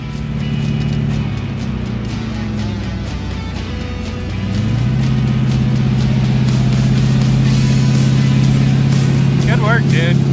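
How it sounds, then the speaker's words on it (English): An old dually pickup truck pulls a trailer, its engine a steady low drone that rises and thickens as it picks up speed, with people talking over it. "go drive. Pull the trailer."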